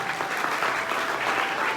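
Hearty applause from an audience at a network marketing motivational talk, a brief steady wash of clapping with no voice over it.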